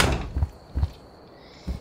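Door in the video game Schedule 1 closes with a series of dull thuds, three or four short knocks spaced about half a second apart, fairly close.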